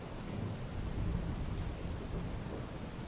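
Heavy monsoon rain in Bhavnagar, Gujarat, pours in a dense roar with a deep rumble of thunder rolling underneath, loud and continuous.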